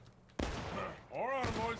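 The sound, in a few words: gunfire in Civil War battle video game War of Brothers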